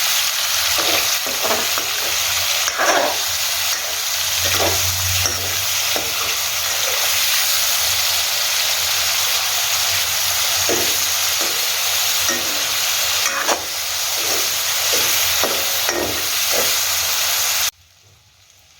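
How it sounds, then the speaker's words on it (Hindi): Prawns frying in oil in a pan for prawn curry, a loud continuous sizzle with repeated stirring clicks and scrapes, running steadily until it cuts off near the end. "यहाँ प्रॉन्स हमारे तकरीबन फ्राई हो चुके हैं"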